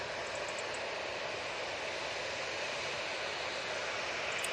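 A Jet2 aircraft at Manchester Airport, heard as a steady, broad engine roar at a distance, even and unbroken for the whole stretch with no voices.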